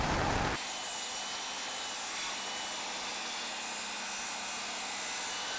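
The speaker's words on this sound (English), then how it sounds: "So we're trying to cut it down on the table saw because we don't have a bandsaw." A table saw runs steadily through a large, heavy wooden worktop, a loud broadband whine holding for several seconds after a brief, louder burst at the start, with no voices.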